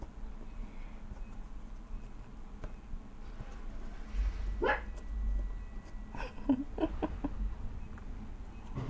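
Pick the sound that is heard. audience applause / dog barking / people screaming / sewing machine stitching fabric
dog barking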